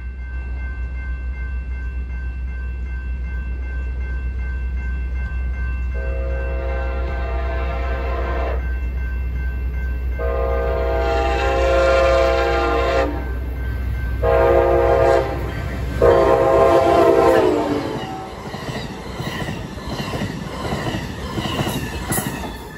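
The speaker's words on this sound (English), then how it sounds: "Oh, it's actually Amtrak." An Amtrak passenger train approaches a railroad crossing, sounding several long, loud horn blasts over a low rumbling engine, then wheels clatter and squeal as it passes close by.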